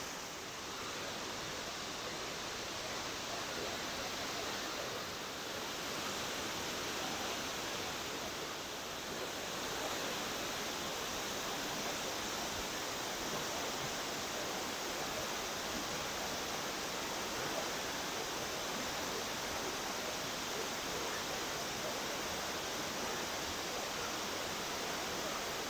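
Boti Falls, the twin waterfalls in the Eastern Region of Ghana, give a steady, dense roar of falling water that stays loud and unbroken throughout, with no voices heard.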